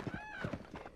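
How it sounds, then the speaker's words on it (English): Horse hooves clip-clop in a rhythmic gallop in the video game The Legend of Zelda: Breath of the Wild, steady close thuds over a soft tonal game background. "maybe I didn't need to bring my dude out, my horse out"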